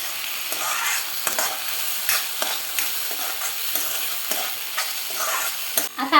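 Moong dal and chopped phodshi greens are stirred in a cooking pot, a steady scraping and sizzling texture with repeated sharp spoon strokes throughout, close and alone.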